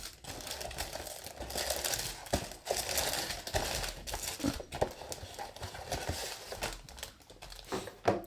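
Cardboard box and plastic parts bags of a Lego Speed Champions Mercedes AMG W15 Formula One set, 267 pieces, being opened: close crinkling, rustling and tearing with sharp irregular clicks and taps, fairly loud and continuous.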